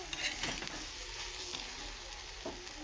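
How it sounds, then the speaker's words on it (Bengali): Dried fish (shutki) frying in a pan with garlic and a pinch of soda: a steady, close sizzle with scraping stirs and light spatter throughout, and no talking. "আর শুটকি মাছটা ভেজে নিচ্ছি"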